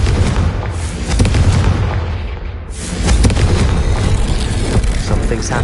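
Confringo spell explosion in a Harry Potter video game: a loud, close, rumbling boom that swells, dips briefly and surges again with a second heavy blast, sustained throughout.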